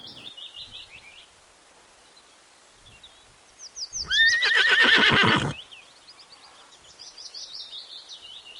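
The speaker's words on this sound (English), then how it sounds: "H for horse." Near and loud, a horse neighs once in a long, shaky whinny, with birds chirping quietly all around it.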